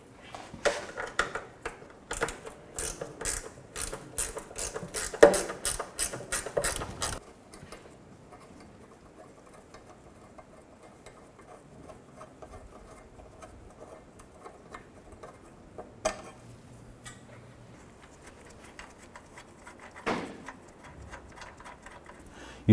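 10mm socket on a hand ratchet removing a nut on a 2007-2017 Jeep Wrangler, with a quiet run of quick ratchet clicks early, then mostly near silence and a few soft metallic knocks.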